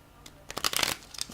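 A tarot card deck being shuffled in a quiet room, a burst of riffling card flutters with a short pause, then a brief final flick, close and moderately loud.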